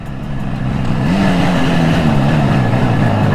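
A 1977 Suzuki GT250 two-stroke motorcycle pulling away, its engine loud and close, revving up and settling into a steady buzzing drone.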